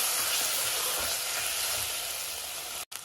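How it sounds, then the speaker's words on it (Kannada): Chicken curry masala fries in a pan, an Andhra-style dish, giving a loud, dense, steady sizzle close by that cuts out abruptly just before the end, with no talking. "ಚೆನ್ನಾಗಿ ಫ್ರೈ ಆಗಲಿ."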